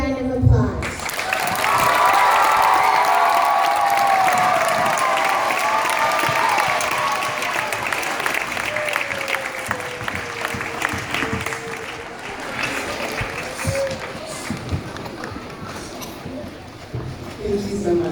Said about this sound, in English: we say thank you and give you a big round of applause.